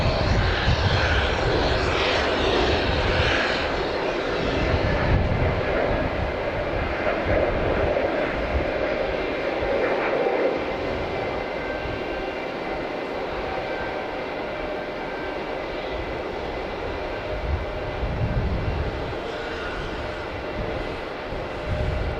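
An Airbus A320neo jet taking off from Logan Airport at night gives a loud, continuous engine roar that slowly eases as it climbs away.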